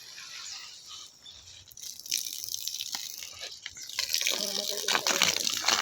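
Tap water runs with a steady hiss that grows stronger and more gushing toward the end, with faint background noise and no clear talking.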